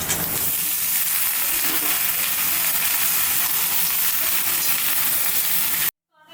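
Vegetables sizzle and fry loudly in hot oil in a pan after browned onions, a steady close hiss with faint stirring that cuts off abruptly near the end.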